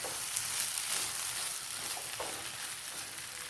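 Egg mixture with cooked potato, carrot and meat stirred in a hot pan, a continuous close sizzle and hiss with faint scraping of the spatula, steady and alone without voices.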